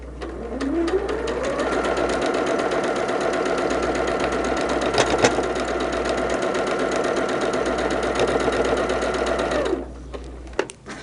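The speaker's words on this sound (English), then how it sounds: "this is nice when you can sew long stretches" A sewing machine runs in one long, fast, even stretch for about ten seconds while piecing a barn star sampler quilt block, then slows and stops with a few clicks.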